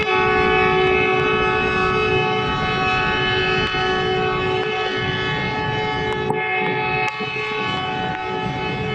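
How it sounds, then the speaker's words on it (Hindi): A train rumbles steadily past in the rain, its sustained horn tones ringing out over a broad wash of rain noise and rolling wheels. "देखा नहीं है कभी कि बारिश में गाड़ी किस तरह जाती है, रेलगाड़ी, वो देख लें ज़रा।"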